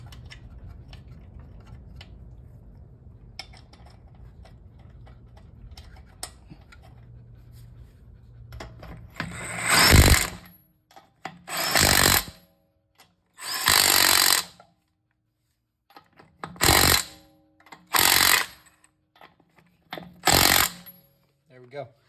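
A Bauer 20V 1/2-inch cordless impact wrench fires six loud, close bursts of hammering with short silent gaps between them, after a stretch of quieter background noise with a voice talking.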